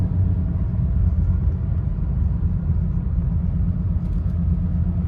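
A BMW E90 sedan drives along and accelerates, giving a steady low engine and road rumble heard from inside the car, with no talking.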